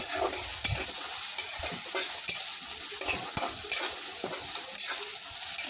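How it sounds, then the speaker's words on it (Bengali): Garlic paste sizzles steadily in hot oil in a pan, broken by repeated scraping and clacking strokes of a spatula as it is stirred, close and fairly loud with no talk. "রসুন বাটা একটু কাঁচা ফ্লেভার আছে ওটা যাওয়া পর্যন্ত একটু ভেজে নিব"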